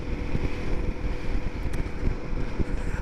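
Strong side wind buffeting a rider on a Royal Enfield Himalayan 450 motorcycle on a UK motorway, a steady loud roar of wind noise with road rumble underneath and no talk.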